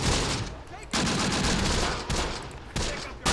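Machine-gun fire in the wartime strategy game Close Combat crackles in several close, sustained bursts separated by short pauses.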